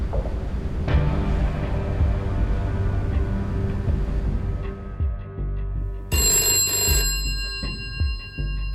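A telephone rings in the naval combat game Sea Power, set around the Greek naval command in 1974, with a sharp bell-like ring bursting in briefly over a steady low ambient hum and clatter.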